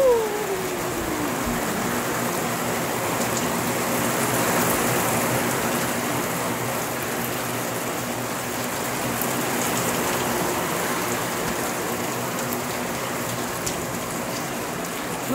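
Steady summer rain falls in Berlin, a dense, even hiss of drops pattering on surfaces that holds at the same level throughout, close and continuous with no voices.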